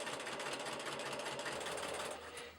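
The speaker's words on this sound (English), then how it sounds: "So I'm just going to continue sewing this" A sewing machine stitches rick rack trim along a seam in a fast, even, continuous whir, close and moderately quiet, slowing slightly near the end.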